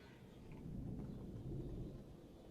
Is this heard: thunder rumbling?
yes